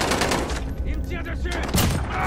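A sniper in a video game fires at the player, sharp shots layered over dense, loud, noisy combat sound with bursts of crackling gunfire.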